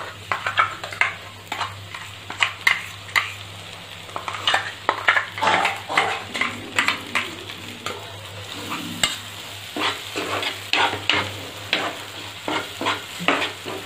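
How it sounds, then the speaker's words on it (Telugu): Onions frying in a pan with ground masala gravy added, a sizzle under repeated scraping stirring strokes with occasional clinks of utensil on metal, close and fairly loud. "ఉల్లిపాయలు అనేవి వేగిన తర్వాత మనం ఇందాక మిక్సీ పట్టుకున్నాం కదా, ఆ గ్రేవీ అనేది దీంట్లో వేసేసుకుందాం."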